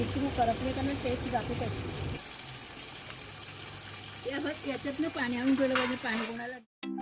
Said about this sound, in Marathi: आणि नीट छान परतून घ्यायचं कांदा आणि टोमॅटो नीट शिजला पाहिजे